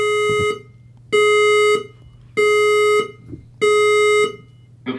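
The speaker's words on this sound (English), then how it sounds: "The fire alarm has been activated in another area of the building." Building fire alarm sounding in repeated loud electronic tone bursts, four long blasts of about half a second each separated by short gaps, with a low background hum and a brief voice-like sound at the start.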